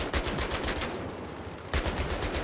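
Rapid automatic gunfire in Battlefield 3, loud bursts of closely spaced shots that pause briefly midway and then resume at the same fast, even rate.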